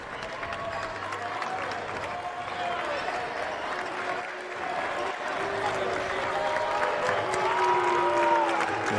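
A high school basketball crowd at a Carl Albert vs Midwest City game applauds and cheers during player introductions, a sustained wash of clapping and shouting that builds toward the end, with an announcer's voice over it.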